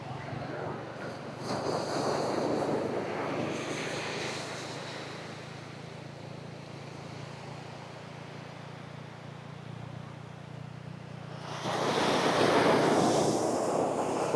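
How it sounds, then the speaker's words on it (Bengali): Ocean surf breaking on the beach at Cox's Bazar: a steady broad wash of waves with wind buffeting the microphone, swelling louder toward the end as a bigger wave rolls in close. "দেখতে পাচ্ছেন কতটা ঢেউ।"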